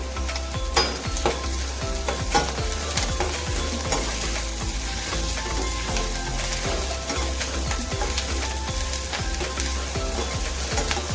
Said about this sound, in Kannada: ಈಗ ಅರ್ಧ ಸ್ಪೂನಷ್ಟು ಶುಂಠಿ ಬೆಳ್ಳುಳ್ಳಿ ಪೇಸ್ಟ್ನ ಆ್ಯಡ್ ಮಾಡ್ಕೊಳ್ಳಿ. ಚೆನ್ನಾಗಿ ತಿರುಗ್ಕೊಳ್ಳಿ.